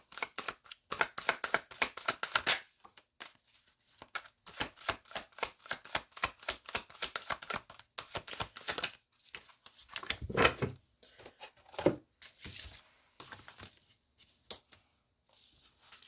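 A deck of tarot cards is shuffled in rapid, crisp riffling bursts close up, the papery snapping sustained for several seconds, then slowing into a few separate taps and slides.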